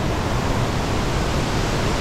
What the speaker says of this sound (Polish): Zobaczcie, będziemy przechodzić przez tą wielką rzekę.